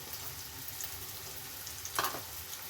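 Peas, carrot and kohlrabi frying in oil in a pan, a steady soft sizzle with a brief scrape of stirring near the end.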